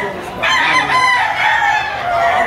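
A rooster crows loudly and close, one long drawn-out call lasting about two seconds.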